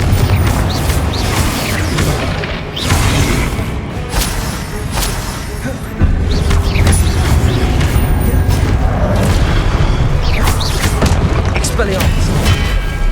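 Spell blasts from the Confringo curse in Hogwarts Legacy, a dense run of loud booming explosions overlapping game music and combat noise, with a sharper burst about midway and a voice casting spells over the din.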